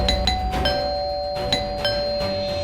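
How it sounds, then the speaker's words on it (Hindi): A doorbell chimes repeatedly, bright ringing tones pressed several times in quick succession over a steady background hum. "कब से डोरबेल बजा रहा है।"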